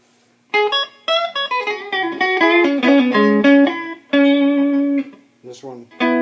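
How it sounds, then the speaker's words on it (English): Electric guitar played through a Stratocaster-style single-coil pickup, notes and chords ringing with sustained tones, pauses between phrases and a faint steady hum underneath. "Get rid of some of that single coil hum."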